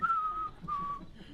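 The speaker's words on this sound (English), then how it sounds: "I am actually whistling when I do this" A person whistles a few sustained tones, two long held notes separated by a brief pause, over a faint murmuring background.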